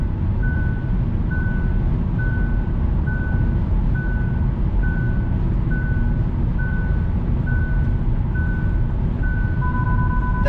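Warning chime from the driver assist system of a 2021 Hyundai Elantra cruising on the highway, a regular series of short beeps repeating about twice a second over a steady road and engine hum, with no talking.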